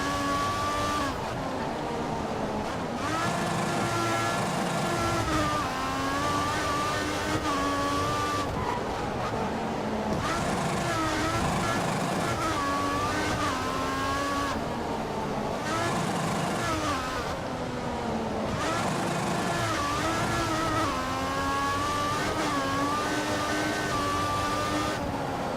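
A Formula 1 car engine in the F1 2014 video game, racing around the Hungary circuit, its high-pitched whine rising and falling through repeated gear changes, with occasional tire squeal and no pauses.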